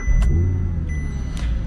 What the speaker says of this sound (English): Nothing too dramatic as a warm start, but you could definitely tell it's got 10 cylinders